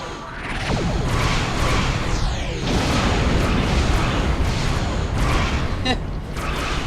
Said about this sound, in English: And let's scatter our torpedoes.